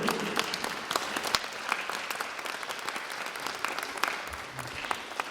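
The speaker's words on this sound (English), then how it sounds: "Can we just clap for those that work with us, the mentors, the board?" Audience applause at a keynote talk, a dense, steady round of clapping that fills the whole stretch, with no one speaking over it.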